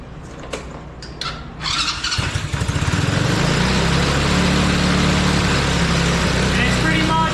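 A free quad ATV with a suspected carburetor problem cranks, catches and fires up, settling into a loud, steady rough idle on the choke, close by, with a few clanks before starting and talk over it.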